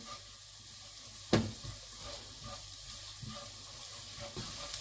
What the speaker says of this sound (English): saute with the onion until it's all, of course, soft and translucent